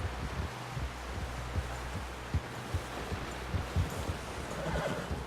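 A horse whinnies in the video game Red Dead Redemption 2 amid a busy, noisy scene with faint hoof clops and rustling; the neigh sits mid-level against a steady background hum.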